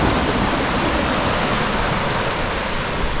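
Ocean waves breaking on Nai Harn beach in Phuket, a steady loud wash of surf and foam filling the whole stretch without pause, no voices.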